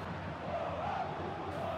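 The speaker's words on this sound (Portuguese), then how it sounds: "Olha só a torcida do Galo tendo um treco aqui nas arquibancadas da Independência." Atlético Mineiro supporters roar from the stands at Arena Independência during a 2019 Copa Sudamericana match, a dense, steady crowd din heard from a distance with no clear breaks.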